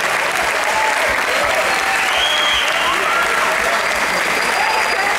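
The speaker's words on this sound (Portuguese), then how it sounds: "Pode assobiar, pode aplaudir." Concert audience applause for a band member, loud dense clapping from a crowd with whistles and cheers mixed in, sustained throughout.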